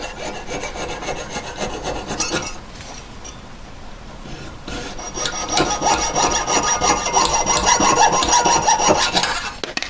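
A jeweler's saw cuts metal for a diamond stud earring setting, with steady rasping back-and-forth strokes that pause briefly and then resume louder and faster near the end.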